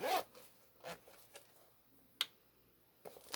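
A zipper on the inside compartment of a rustic leather tote bag is pulled in short quick runs, a few brisk rasps with small clicks between them, close and fairly quiet.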